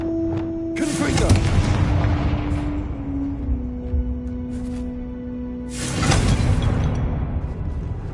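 Confringo explosive spell in Hogwarts Legacy, heard as two heavy booming blasts, the first just after the start and another near the end, each rolling off into rumble beneath a sustained musical tone.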